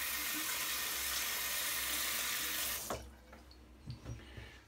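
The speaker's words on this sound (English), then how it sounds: "it's rinsing off this blade really easy" Running tap water pours loud and steady over a razor blade being rinsed in a sink, then cuts off abruptly, leaving a few faint clinks and handling sounds.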